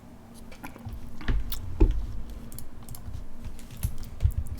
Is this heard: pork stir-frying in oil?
no